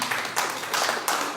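Church congregation clapping for the Lord during a Spanish-language service, a steady dense patter of hands that swells in waves across the clip with no voices over it.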